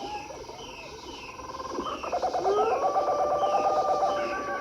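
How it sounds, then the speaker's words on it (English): Jungle ambience from a Tiger 2XL electronic toy on an African safari theme: a bed of insect and frog chatter rising into looping bird calls and trilling tones, steady and moderately loud, with no talking. "I would like to stop my vehicle and be very quiet so you can enjoy the sounds of the jungle"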